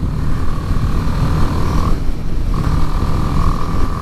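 A 2018 BMW G310R single-cylinder motorcycle with a 6-speed gearbox and 10,000 RPM redline accelerates into top gear, a loud steady engine drone with a brief dip around a gear change, mixed with heavy wind rush.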